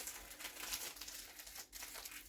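Crinkling plastic packaging being struggled open, continuous close crackling and rustling with a brief pause near the end.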